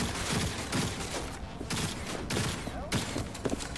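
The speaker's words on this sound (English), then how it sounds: "Are you shooting people through walls right now?" Rapid bursts of gunfire in the video game Cyberpunk 2077, a string of sharp shots in quick clusters with brief gaps, fairly close and loud, no talking over them.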